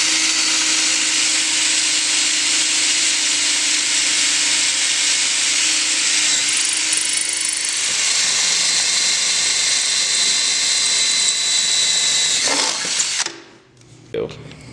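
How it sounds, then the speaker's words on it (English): A power drill whines steadily at high speed drilling a hole for a Ski-Doo Gen4 bulkhead brace plate, running for a long stretch, then cuts out abruptly with a short clatter. "finish drilling the last hole"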